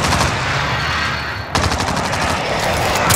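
Video game gunfire in a French squad battle royale match, dense rapid bursts of automatic shots, loud and close, continuing almost without pause, with a brief lull midway before another heavy volley.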